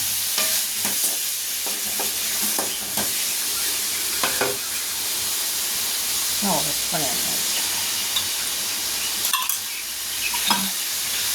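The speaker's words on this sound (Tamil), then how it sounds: "இதை நல்லா வதக்கிக்கலாம்" Onions sauté in a pan for mutton curry with a constant hissing sizzle, punctuated by repeated ladle scrapes and clinks against the metal as they are stirred.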